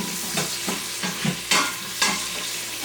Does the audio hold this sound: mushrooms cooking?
yes